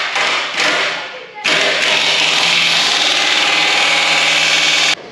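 Power drilling on a large metal forklift attachment, a loud sustained whirring grind after a couple of short bursts, ending abruptly as the drill stops.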